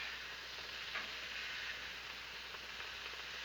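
Shrimp and sausage stir fry sizzling on a Blackstone griddle, a steady close hiss of frying with faint scraping as the food is stirred, no talk.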